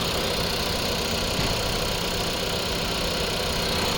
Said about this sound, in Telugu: ఇంజన్ సౌండ్ కూడా చాలా నీట్ కండిషన్ ఉంది సార్